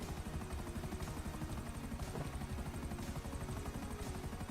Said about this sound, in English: Okay, last helicopter.